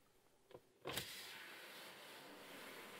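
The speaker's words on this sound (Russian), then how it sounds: "Передние стеклоподъемники механические." The front window of a Mitsubishi L200 pickup is wound by hand, a couple of faint clicks and then a short scraping crank followed by a soft ongoing whir, quiet and close inside the cab.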